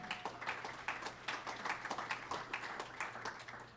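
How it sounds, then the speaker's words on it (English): A small audience at a Bethel athletics hall of fame induction ceremony gives a brief round of applause, with claps that are soft and distant in an even, steady patter. "maybe a little round of applause"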